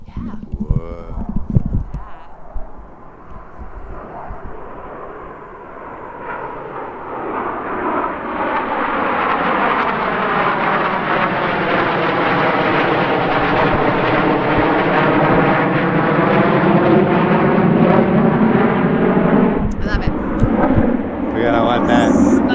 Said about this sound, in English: There's some jets flying.